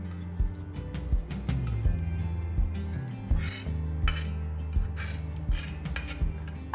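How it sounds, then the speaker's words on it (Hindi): Metal pots and utensils clank and scrape near a stove while boiled lentils are poured into a tempering pan for dal tadka, with a steady low hum underneath. "यहाँ पे इस तड़के के ऊपर हम डाल देंगे हमारी बॉईल की हुई दाल।"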